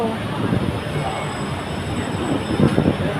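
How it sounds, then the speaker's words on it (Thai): Rumble of an electric train arriving at a station in Thailand, with a steady high whine and voices talking nearby. "รถไฟฟ้ามาแล้ว"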